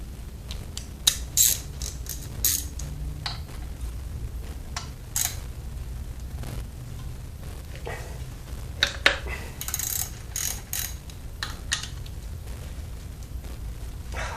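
A ratchet fitted with a 3/8 hex Allen bit works loose car disc brake caliper bolts, giving repeated sharp clicking bursts and metallic clacks at close range, alone without talk.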